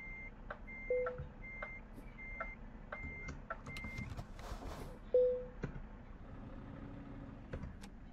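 Reversing beeper of a truck in Euro Truck Simulator 2: steady evenly spaced beeps repeat about every half second over a low engine hum, with a couple of brief louder tones and clicks partway through, no talking.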